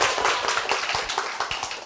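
A group gathered for an in-person tax Q&A session claps hands to mark the start of recording. Sharp individual claps stand out over a busy background of clapping, close by and lively.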